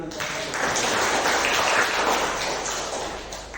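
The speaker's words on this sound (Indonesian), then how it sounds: "tepuk tangan untuk keyakinan Bapak" A classroom of children clap together for a teacher, a steady wash of applause that stays loud all the way through and fades slightly near the end.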